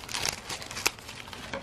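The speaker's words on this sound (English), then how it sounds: "So why don't I just cut it open?" A big padded envelope holding an art supplies order is cut open, giving crisp crinkling and tearing sounds in quick, close bursts with one sharper rip partway through.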